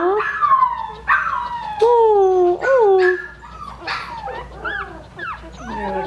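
Coton de Tulear puppies whimpering and yipping up close, a run of high, sliding cries and short whines in uneven bursts, some overlapping, over a low background hum.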